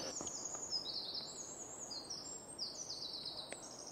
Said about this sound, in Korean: 아, 이거 새소리 이쁘다, 그지?